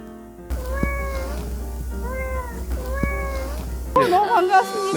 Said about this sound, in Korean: 호랑이 대신 고양이다, 고양이.